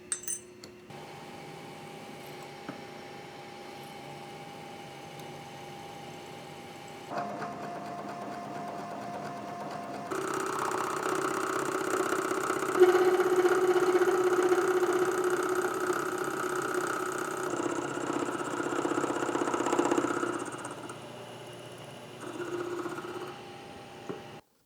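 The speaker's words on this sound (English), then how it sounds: "So the drill is going to want to go more into the aluminum because it's softer than the steel" A drill bores through aluminum layered over rolled steel: a steady motor whine shifting pitch in stages, growing louder and rougher through the middle cut before easing off, with no speech.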